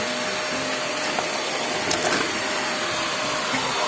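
A vacuum cleaner runs steadily while a car interior is cleaned, a continuous broadband whine holding level throughout with a couple of faint knocks and bumps over it.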